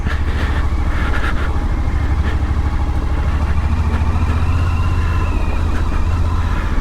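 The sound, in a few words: Suzuki V-Strom 1050XT motorcycle riding on leafy trail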